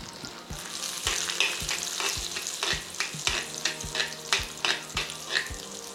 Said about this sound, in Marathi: कट करून घेतलेले हे काजू आहेत आणि हे मनुके आहेत. तर हे सगळे आपण तुपामध्ये तळून घेणार आहे.